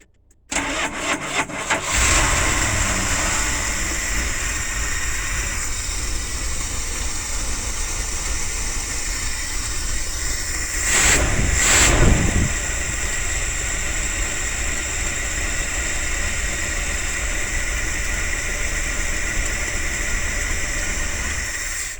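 A Dodge 360 V8 cranks briefly with a short hesitation, then catches and settles into a loud, steady idle that continues close up, with a brief surge of noise partway through.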